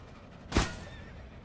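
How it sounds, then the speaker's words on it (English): A horse in the video game Dead Rails gives a single short neigh, a brief sharp burst over a quiet in-game background. "I just saw that horse got murdered and ran over."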